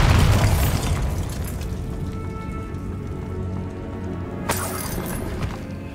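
A magical Bombarda blast in the Hogwarts Legacy game erupts with a heavy boom and shattering crash, then debris patters and rumbles as it dies away, with a second sharp crack near the end.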